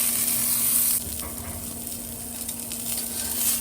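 Ribeye steak sears on a hot griddle, reverse-seared after smoking, with a loud, steady broadband sizzle and a constant low hum underneath; the sizzle dips slightly after the first second, then holds, with no talking.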